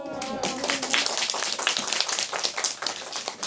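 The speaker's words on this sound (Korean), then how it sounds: "자, 박수." A classroom of students applauds together, a steady patter of many hands clapping at moderate volume through the whole stretch, with a teacher's voice briefly audible at the start.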